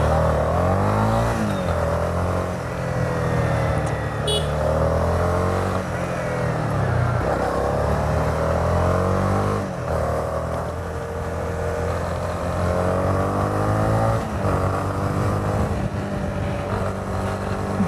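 Honda motorcycle engine rising and falling in pitch as the rider accelerates through the gears, a steady loud drone with continuous wind rush throughout.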